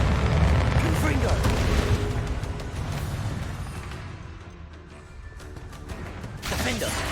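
A fiery Confringo spell blast in Hogwarts Legacy, a loud booming burst of game combat noise that rumbles and fades, with a voice speaking over the action.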